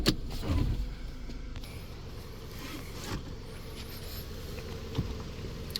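The electric power seat motor of a 2005 Toyota Camry whirs briefly at the start, followed by a faint, quiet hum of cabin movement with small clicks, close by and low in level.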